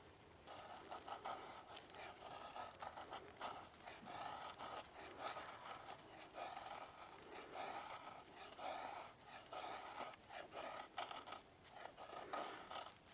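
An LT Wright knife shaving thin curls from wood, repeated rasping scrapes in an uneven rhythm, close and moderately loud with no talking.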